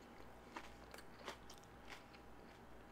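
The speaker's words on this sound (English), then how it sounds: "That crunch, though." Quiet crunching bites and chewing of Jack in the Box fast food, several crisp crackles spaced irregularly over a few seconds, close to the mic with no talking.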